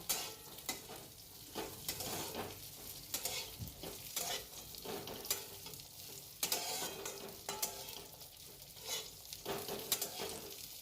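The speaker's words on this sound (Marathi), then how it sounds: "काजू बदाम परतले तर याच्यातच मनुके पण घ्यायचे आणि मनुके तुपात टाकले का थोडेसे फुलतात" Cashews, almonds and raisins roast in hot ghee for sweet date ladoos, giving a steady close sizzle broken by frequent stirring scrapes and clatter, with no talking.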